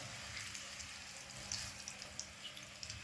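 Potatoes fry in hot oil with a small pinch of turmeric, giving a steady soft sizzle broken by a few faint pops and crackles, close and quiet, with no talking.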